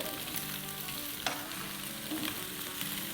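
Green coriander being stirred into a mixture frying in a pan gives a steady, continuous sizzle with faint scraping stirs, close and moderately loud, with no talking.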